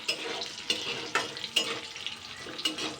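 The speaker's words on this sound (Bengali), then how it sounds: "আলুটা আগে ফ্রাই করে নেবো" Potato pieces frying in a little oil with two bay leaves in a pan, a steady crackling sizzle broken by occasional scraping stirs, close and moderately loud with no talking.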